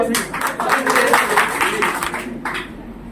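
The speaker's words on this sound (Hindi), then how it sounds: "इसके लिए भी ताली बजाइए आप।" An audience at a youth gathering in Maharajganj claps together in a steady patter of many hands. The applause is moderately loud and runs throughout, with a voice also heard.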